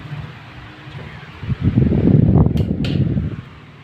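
A Maspion electric fan fitted with metal blades runs at speed setting 3, giving a steady close whoosh of moving air that swells louder midway, with two short clicks near the end.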